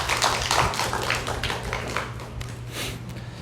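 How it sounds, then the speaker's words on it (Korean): Church congregation clapping in welcome for children and teenagers at a family worship service, a moderately loud, steady patter of many hands that eases off slightly toward the end. "환영하는 의미로 우리 박수 한번 좀 할까요?"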